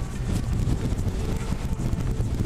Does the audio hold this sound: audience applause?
no